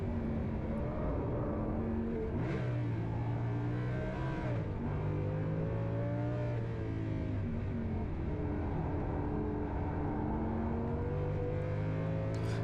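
An Audi R8 racing on the Nürburgring, its engine droning loudly and without a break, the pitch climbing and dropping with each gear change and shift in revs.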